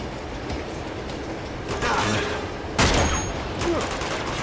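Gunshots ring out in the PS4 version of the Uncharted 2 video game, loud sharp blasts around the middle of the clip over a steady rumbling background.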